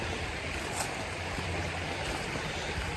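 Water running in a creek bed along a forest stream, a soft, steady broadband rush heard alone at low level throughout.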